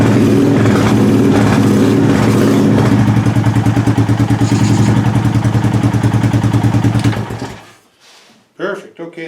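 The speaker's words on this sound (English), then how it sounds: "Okay, that battery starts." A Honda ATV engine, run on choke with no air cleaner fitted, chugs loudly and roughly up close for several seconds and then cuts off, followed by brief talk.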